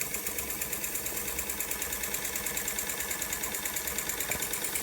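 A small Jensen Model 25 steam engine running steadily, giving a fast, even mechanical chugging and rattling hum that stays constant and close throughout, with no talking.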